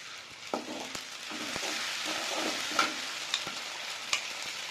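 Ground tomato paste tipped into a pan of frying mutton fried rice, giving a steady close sizzle with a few sharp stirring clinks and scrapes, with no voices.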